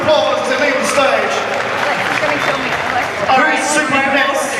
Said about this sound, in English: Give them a super applause as they leave the stage.